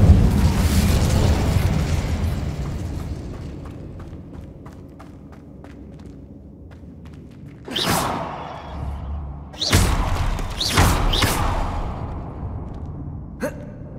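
Fire spell bursts from Incendio and other spells being cast in a Hogwarts Legacy battle, a run of loud whooshing blasts near the end after quieter rumbling combat noise.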